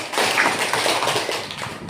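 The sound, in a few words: class clapping for group 1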